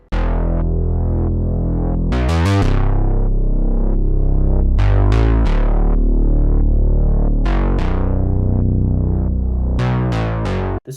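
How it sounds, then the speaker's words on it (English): Deep sub bass line in an 80s R&B beat made in FL Studio, long sustained low notes shifting pitch every couple of seconds alongside punchy bright hits, loud and upfront, with no speech. "So then the next thing I added was this sub bass"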